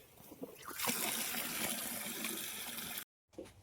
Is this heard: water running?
yes